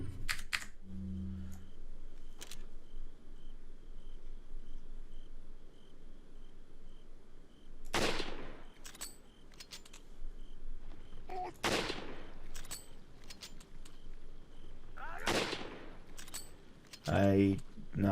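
Rifle shots from the Resident Evil 4 video game ring out as three or four sharp, loud cracks spaced several seconds apart over a quiet ambient hum, with a brief voice near the start.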